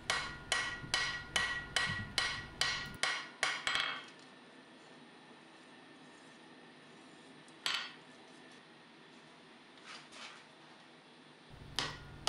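A hammer rings out about eight quick, evenly spaced strikes on a forged full-tang knife blade, tapping it back into shape. A few isolated metallic clanks follow after a quieter stretch.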